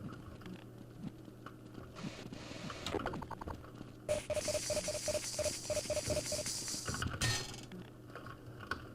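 A door mechanism in Counter-Strike 1.6 JailBreak grinds open with a long, steady mechanical whir broken by a repeating ratchet-like clicking, loud and close, after scattered creaks and clunks, then ends in a sharp clank.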